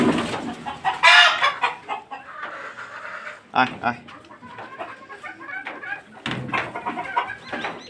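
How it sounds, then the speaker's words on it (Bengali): Several chickens clucking and squawking close by in bursts, with a person talking between and over the calls. "এই যে দেখতে পাচ্ছেন ফার্মি মুরগি"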